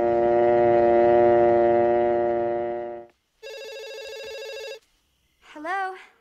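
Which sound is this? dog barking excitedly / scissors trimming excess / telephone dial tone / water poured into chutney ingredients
telephone dial tone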